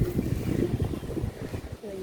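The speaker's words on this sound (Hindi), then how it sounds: "बहुत तेज़ हवा है, बीच बीच में आंधी जैसे झोंके आ रहे" Strong wind buffets the microphone in a steady low roar, rising and falling in gusts throughout, with no other clear sounds.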